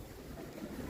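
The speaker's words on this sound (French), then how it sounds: "Et ce putain de vent," Strong, steady wind roars across the microphone on the GR65 Camino francés pilgrimage route, a dense low buffeting rumble that fills the whole moment with no voices.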